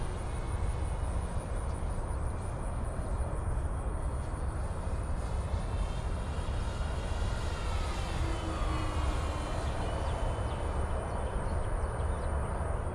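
A steady, droning engine of an FMS model warbird airplane flying overhead at half throttle, continuous and moderately loud, with a slight shifting whine as it passes, no voices.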